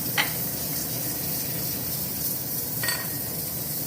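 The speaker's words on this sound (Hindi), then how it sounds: "थोड़ी हरी मिर्च में तेल डालूंगी" Green chillies frying in hot oil, a steady close sizzle with a couple of brief sharp scrapes of stirring.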